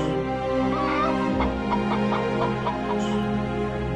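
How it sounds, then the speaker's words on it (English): Summoned chickens in the RuneScape video game cluck in a steady series of short repeated calls over a constant low hum, with no talking. "Some people summon chickens,"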